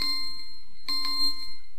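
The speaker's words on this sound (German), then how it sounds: "meine Uhr wird jetzt gleich klingeln" A wristwatch alarm rings with thin, high electronic tones, a steady note followed by a fresh burst of beeps partway through, fairly close with no talking.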